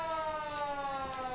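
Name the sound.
siren of a 1934 Ford ladder fire truck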